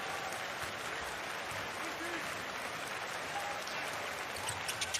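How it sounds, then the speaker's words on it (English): Basketball fans in an arena applaud at a moderate level, a steady wash of clapping and crowd noise that goes on throughout. A commentator's voice is heard faintly underneath. "The fans applaud that miss."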